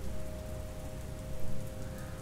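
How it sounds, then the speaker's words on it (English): Rain falls on kitchen linoleum inside a tiny cabin, a steady dense patter with a constant low tone running beneath it, no voices. "The smell of rain filled the tiny cabin. I heard it falling on the linoleum in the kitchen."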